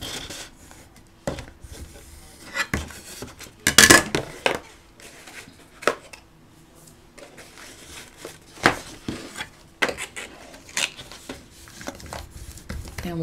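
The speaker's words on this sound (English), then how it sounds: "we fold them over, use our bone folder, or a big old spatula to get that nice and stuck" A bone folder or spatula rubs and presses folded flaps of a paper box made from 6x6 cut-apart sheets, producing soft scraping strokes and taps at an uneven pace, close by and fairly quiet.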